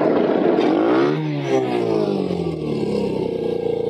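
A quad bike's engine running close by, a loud buzzing drone that dips and then climbs in pitch as the revs change, steady and continuous with no talking.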